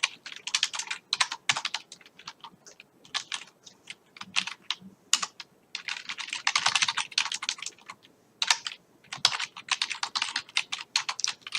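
Fast clicky typing on a computer keyboard in a spreadsheet, rapid bursts of close keystrokes separated by short pauses, with no talk.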